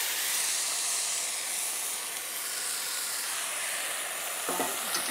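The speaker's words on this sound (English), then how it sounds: "We're going to take the milkweed flowers, put it in a hot skillet." Boiled milkweed flowers sizzle in a hot skillet for a wild-edible stir fry, a steady, close, bright hiss with no talking and a brief clatter near the end.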